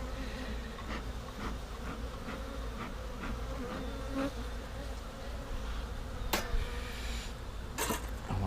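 Honeybees buzzing around an opened hive while smoke is used on them: a dense, continuous close-up drone with occasional sharp clicks and knocks of hive frames being handled.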